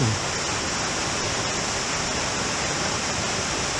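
Wild Burro Falls, a waterfall of about 35 feet, pours with a loud, dense, unbroken roar that holds steady throughout.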